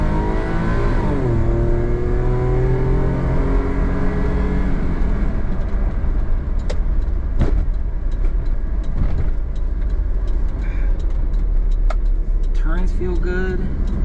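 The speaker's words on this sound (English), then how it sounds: "Let's give it a nice deck van ASMR right now." Engine of a Daihatsu HiJet Deck Van kei truck driving in power mode, a loud steady drone with rising and falling revs through gear changes, heard from inside the cab with small rattles and clicks.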